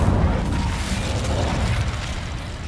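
An Incendio fire spell cast in Hogwarts Legacy, heard as a loud booming burst that decays into a roaring, crackling rush over a couple of seconds.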